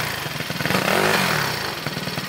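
A scooter fitted with an early-type muffler revs up sharply to a rising, buzzy peak and then drops back, loud and close, with a gathering of scooter riders around.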